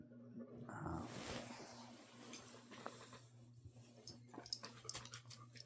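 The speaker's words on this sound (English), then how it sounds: "Dogs are acting weird." Dogs whimper and pant softly at close range, with small whines and restless breathing that rise in the first second and then continue in faint, uneven bursts.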